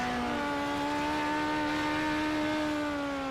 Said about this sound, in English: Oh no, these might have V8s in them.